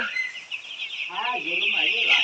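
White layer chicks of the Nahar company breed chirp in a high, continuous cheeping chorus close by, over a voice speaking throughout.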